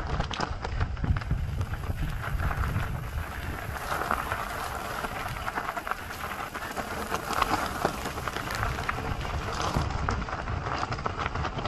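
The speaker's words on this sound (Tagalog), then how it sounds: "Ayan na ang ulan." Steady rain pours down with a constant hiss and patter, mixed with a low rumbling wind, continuous and moderately loud throughout.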